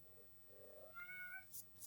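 A cat gives a short, faint meow, alone in a quiet room.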